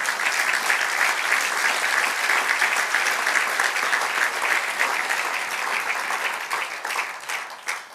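Sustained applause from a church congregation, steady and full for several seconds before tapering slightly at the end.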